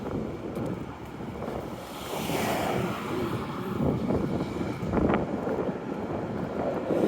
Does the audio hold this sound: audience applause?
no